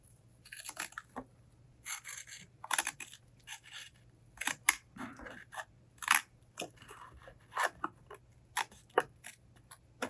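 Scissors snip through air carbon mesh applied under fishing rod guide wraps, giving a close series of crisp, crunchy cuts in irregular rhythm, with no talking.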